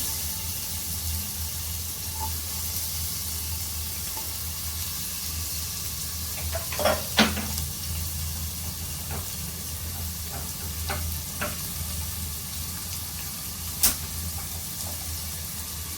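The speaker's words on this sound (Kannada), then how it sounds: "ಸ್ವಲ್ಪ ಉಪ್ಪು ಸೊ ಚೆನ್ನಾಗಿ ಫ್ರೈ ಮಾಡೋಣ" Onions with a little salt frying in a pan give a steady, close sizzle and hiss throughout, broken by a few brief clinks and stirring sounds.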